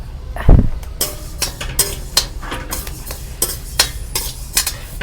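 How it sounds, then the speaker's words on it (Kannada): Mustard seeds dry-roasting in a pan give repeated sharp scraping and stirring strokes with a faint crackle, fairly loud and close, with no talk. "ಸಾಸಿವೆನ ಹುರ್ಕೋತಾ ಇದ್ದಾರೆ."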